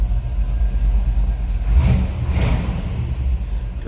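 A 1960 Chevrolet El Camino with a 350 V8 cranks and fires up, a short burst of engine noise rising out of a steady low rumble, then settling into a loud, even idle close by.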